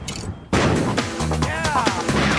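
A sudden loud gasoline explosion bursts in after a quiet half second and leaves a rumbling, crackling aftermath with scattered booms as it dies away.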